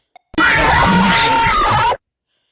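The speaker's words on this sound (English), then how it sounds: "his main jump scare would just be" A sudden loud jump-scare shriek from a Roblox game bursts in and holds for about a second and a half, harsh and piercing, then cuts off abruptly into silence.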